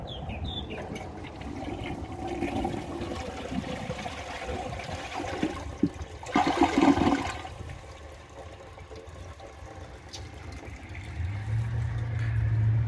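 A Kohler Rialto Ingenium toilet flushing a grocery bag: rushing, gurgling water builds to a brief loud surge midway, then eases into a quieter trickle and drain, with no one speaking.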